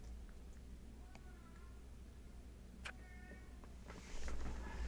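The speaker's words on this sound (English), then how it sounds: "My cat is making some noise" A house cat meows faintly in the background of a quiet room, a few short thin calls spread across the moment, with low room hum and a brief rustle near the end.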